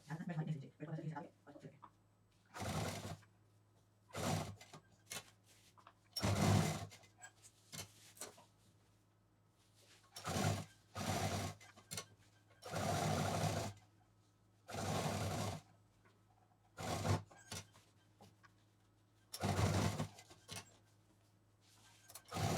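Sewing machine stitching cloth for a shopping bag, running in repeated bursts of a few seconds each, separated by brief pauses, at moderate level, with no talk over it.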